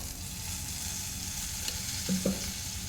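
Cumin, mustard seeds and turmeric sizzle in oil for a poha mixture, a quiet, even frying hiss with a couple of faint clinks from stirring.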